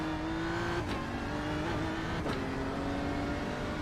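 Race cars approaching in iRacing traffic at Summit Point: a steady engine drone with a rising and falling whine, with a couple of brief swooshes as cars close in, moderately quiet and alone.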